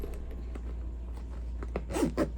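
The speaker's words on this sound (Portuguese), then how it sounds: "Isso aqui ajuda a gente a fazer assim, ó, a abrir o zíper." Zipper on a pouch sewn from reused denim jeans being pulled open: a few quick, quiet rasping strokes near the end, following faint handling noises.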